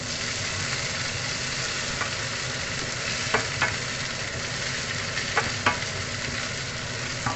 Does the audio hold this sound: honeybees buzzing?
no